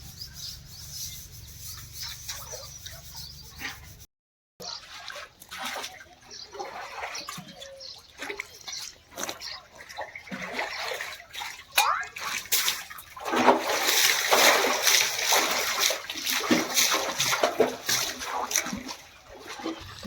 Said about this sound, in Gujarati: બાકી પાણી નાખતો જવાનું ધોતો જવાનું